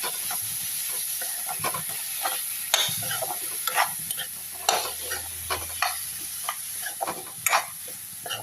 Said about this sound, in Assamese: এনেদৰে অলপ সময় ভাজি লওঁ।